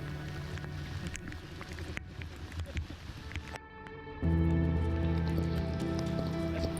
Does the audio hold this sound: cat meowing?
no